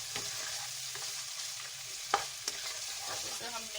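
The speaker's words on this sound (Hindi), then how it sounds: "इसे हम मिक्स करेंगे अच्छे से।" Fried bitter gourds are stirred into minced meat in a pan, a low steady sizzle with spoon scrapes and a couple of sharp clicks, nobody talking.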